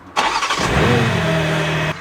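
A BMW M3 or M5 engine cranks and fires up loudly close by, then settles into a rough, rumbling idle with a steady low hum until it cuts off abruptly.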